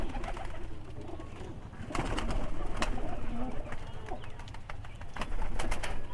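Pigeons in a backyard breeding setup coo and rustle together, soft throaty coos repeating over a steady background murmur with occasional sharp wing flaps and clicks, fairly close.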